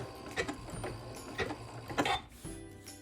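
Home sewing machine stitching fusible appliqué onto a quilt, a soft mechanical whirr in short bursts with pauses between, close and fairly quiet, the rhythm stopping and starting as the fabric is turned.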